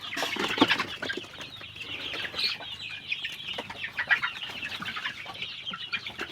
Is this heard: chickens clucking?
yes